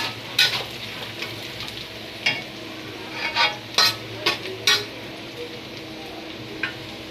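Chicken cooking in a pan with a steady frying sizzle, broken by repeated scraping clinks of a utensil stirring at uneven intervals, with some talk in the background.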